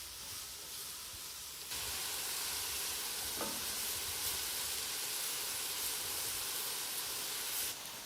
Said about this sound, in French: on va faire donc revenir nos petits légumes pendant 5 minutes à peu près